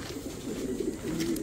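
Ice pigeons coo softly in a low, murmuring run of notes, close by but faint.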